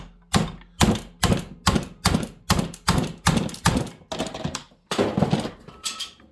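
A big hammer pounds a stuck flywheel fastener on a Sachs Dolmar 153 chainsaw, about a dozen sharp, loud, evenly spaced metallic blows ringing out close by.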